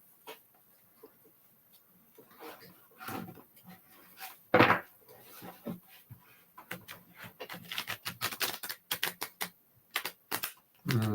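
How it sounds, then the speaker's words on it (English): A deck of playing cards is riffle shuffled by hand, with scattered soft taps and handling noises followed by rapid bursts of fluttering card riffles, close and moderately loud, with no speech. "I don't know if I would be able to riffle shuffle this"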